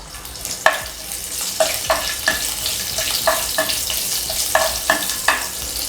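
Cumin, fenugreek seeds and chopped green chillies fry in oil for a guava pickle, a constant near sizzle punctuated by a regular series of crisp spoon taps and scrapes against the pan as they are stirred.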